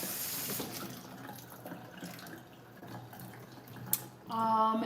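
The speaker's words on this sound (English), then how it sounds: "I think this quinoa is rinsed enough" Tap water runs steadily into a kitchen sink as quinoa is rinsed, a constant splashing wash that fades slightly and then swells louder near the end.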